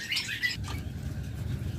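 Lovebirds in cages at a bird shop: a quick burst of high, thin chirps at the start, then fading into low shuffling and rustling noise from the cages.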